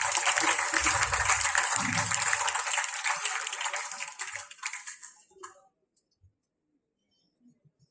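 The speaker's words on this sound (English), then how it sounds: "Please give him a big round of applause." A school audience gives a chief guest a big round of applause. Dense clapping carries steadily for about five seconds, with low voices briefly underneath, then thins and fades into near silence with a few faint scattered sounds.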